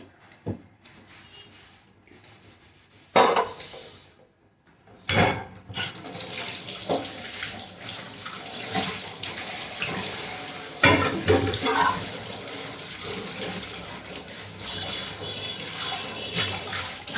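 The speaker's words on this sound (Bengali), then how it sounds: "তো কড়াইগুলো মেজে নিই।" Woks are scrubbed under a running tap, a steady close rubbing and scouring over continuous rushing water, with a brief pause and a few louder knocks of the pan before the scrubbing resumes.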